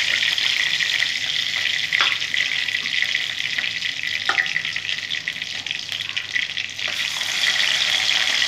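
Katla fish pieces frying in hot oil in a pan, a constant loud crackling sizzle throughout with occasional soft knocks of a spatula against the pan.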